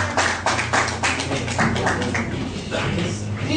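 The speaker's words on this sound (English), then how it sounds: "I want y'all to start clapping right now" Audience clapping for a spoken word poet at a live performance, a steady wash of many hands clapping at fairly close range, with faint crowd voices mixed underneath.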